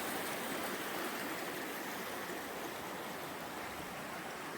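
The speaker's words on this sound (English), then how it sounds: "You have the sound of the water." A river stream flows beside a hiking trail, giving a steady, broad rushing wash of water that stays even and unbroken throughout, with no voices.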